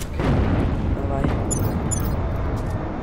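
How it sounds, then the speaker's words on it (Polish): A dense, loud rumbling blast from an excavator exploding in a video game, with a sustained roar of crackling noise filling the whole few seconds. "Koparka wybuchła"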